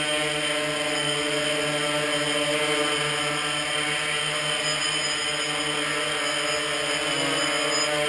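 A GAUI 500x multicopter fitted with a NAZA flight controller and a GoPro camera flies with a constant, even whine of electric motors and propellers, holding steady and fairly close with no talk.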